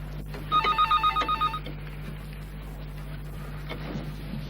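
An old-fashioned telephone bell rings indoors in a quick series of about eight trilling bursts, fairly loud over a low steady hum, then falls silent.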